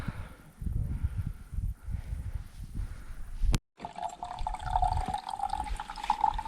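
Mountain spring water runs and trickles steadily near Lukomir, Bosnia, with a brief break partway through before the flow resumes, close and fairly loud.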